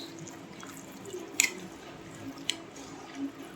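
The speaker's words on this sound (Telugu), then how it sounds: "చూడండి మా అమ్మ అయితే కలుపుతుంది" A mother mixes raw mango pickle by hand at home, giving soft wet squishes and a couple of sharper slaps over low steady background hum, close and fairly quiet.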